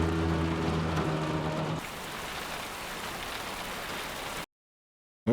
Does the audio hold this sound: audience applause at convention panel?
no